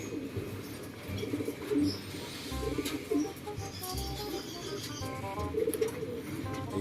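Pigeons coo while being fed pellets, several soft repeated coos and throaty calls close by over light background noise, with a few low thumps.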